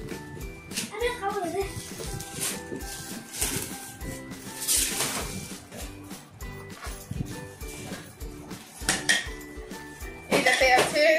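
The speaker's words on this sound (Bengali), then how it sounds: "আমি খুব সুন্দর একটা ক্রিস্টাল বোল পেয়েছি" A crystal serving bowl and spoon lifted and handled as a gift is unpacked: bright clinks and glassy taps, close and irregular, with a louder rattle near the end. An adult and someone talk throughout, and a dog barks faintly.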